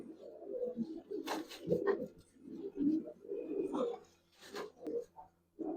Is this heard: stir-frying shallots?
no